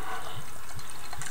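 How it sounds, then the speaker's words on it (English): Stella Artois Cidre, a 4.5% apple cider, is poured into a glass, making a steady, close splashing and fizzing rush. "Now, popping that top as I'm pouring"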